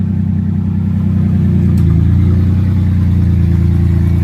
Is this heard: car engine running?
yes